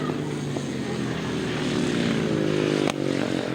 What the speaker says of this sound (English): a 500cc solo speedway engine